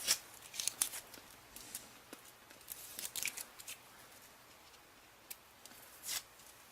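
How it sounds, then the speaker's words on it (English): Marking tape is peeled off the faders of a Roland Juno-106 synthesizer. Quiet, crinkly tearing and sticky crackles come in short, irregular bursts, close by, with no one speaking. "I'm just going to take this tape off now."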